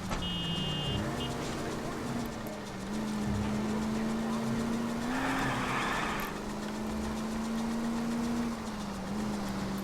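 A car in the video game L.A. Noire is driven hard, giving a steady droning engine note that rises and falls slightly over the whole stretch, with tire squeals and skidding mixed in.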